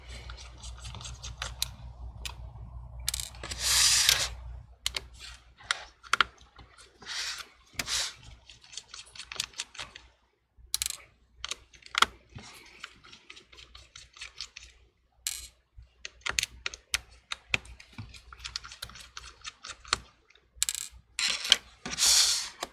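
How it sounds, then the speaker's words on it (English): A screwdriver backs out the three hinge screws on a MacBook Pro, heard as small metallic clicks, scratches and clinks of loose screws, scattered in bursts across quiet gaps. "There are 3 screws on the top right corner holding down the hinge. Remove the 3 screws."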